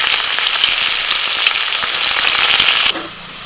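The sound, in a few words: chopped onion frying in oil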